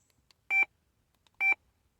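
Two short electronic beeps from a Midland MXT575 two-way radio, about a second apart, each a brief two-tone chirp against near silence.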